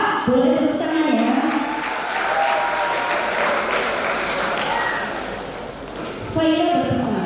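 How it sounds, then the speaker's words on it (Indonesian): Audience applause fills a convocation ceremony hall, a sustained wash of many hands clapping that dips slightly near the end, with a voice speaking at the start and again as it fades. "boleh tepuk tangan ya"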